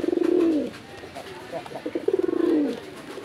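A male blue-bar Raj Golla pigeon coos close by, giving two drawn-out throaty coos with a cluster of shorter rolling notes between them.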